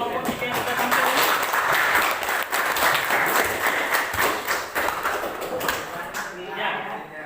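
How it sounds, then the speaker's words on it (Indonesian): A class of students claps for a group that has just finished presenting, a burst of close, lively applause that gradually thins out, with a voice speaking over it. "Mari kita kasih aplaus untuk kelompok 3 yang sudah tampil."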